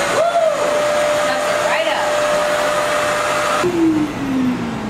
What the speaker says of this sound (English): the cool thing about the Eyevac is it's actually motion sensored, So it doesn't do anything until I put this broom up to it